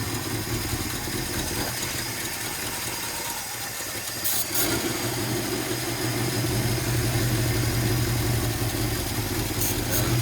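A 1957 Chevy Bel Air engine, suspected of a carburetor fault, runs at a steady idle just after its first start in over 15 years, a continuous close rumble with no talk.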